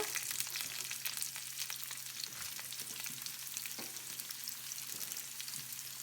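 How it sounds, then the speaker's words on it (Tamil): Oil crackles and sizzles steadily up close as mustard and cumin seeds pop and spatter, an even frying hiss with scattered sharp crackles and no talking. "எண்ணெயில் 1 டீஸ்பூன் கடுகு, அப்புறம் 1 டீஸ்பூன் சின்ன சீரகம் போட்டு தாளிக்கிறேன்"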